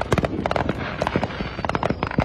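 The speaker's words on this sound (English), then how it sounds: "fireworks going off around the valley" Fireworks going off around the Las Vegas Valley in the dry desert heat: a rapid string of sharp crackling bangs and pops, loud and close, with brief lulls between clusters and no talking.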